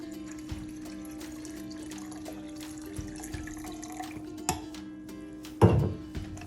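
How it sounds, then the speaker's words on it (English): Water is poured into an electric kettle in a trickling, splashing stream with small clinks and drips, growing into a louder gush near the end, close and alone. "take the water and just pour it directly into the kettle"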